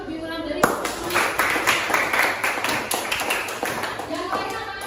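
Clapping breaks out in a classroom, a burst of many hands that starts suddenly and keeps a steady patter for several seconds, with voices faintly underneath.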